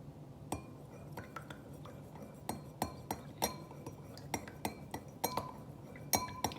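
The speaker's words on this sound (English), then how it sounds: "I'm gonna just keep mixing to see if those mix in or not" A spoon stirs a solution in a glass, tapping out a string of light, bright clinks against the sides at an uneven pace, fairly close and quiet.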